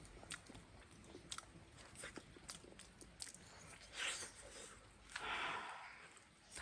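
Soft, close chewing and biting of steamed sweet potato, with quiet wet mouth sounds and occasional breaths in an otherwise hushed rural room.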